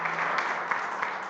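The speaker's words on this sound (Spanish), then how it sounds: "Le damos un aplauso a nuestro hermano para que sienta ese ánimo." Applause from a church congregation, a dense steady wash of many hands clapping at moderate distance, with faint voices underneath.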